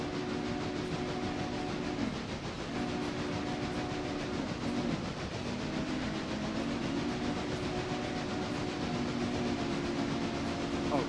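A locomotive runs in the Railroader video game, giving a continuous dense rumble and hiss with a steady low engine drone that shifts pitch a few times, loud and unbroken throughout.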